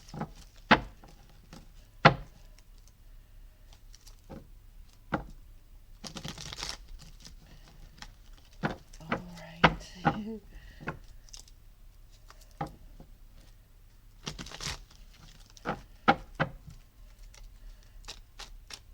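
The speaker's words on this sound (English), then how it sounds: "So we're going to go ahead and put these aside and shuffle up the Witch's Tarot." A Witch's Tarot deck is shuffled by hand up close, giving intermittent bursts of papery riffling and sharp card taps and slaps separated by brief quiet gaps.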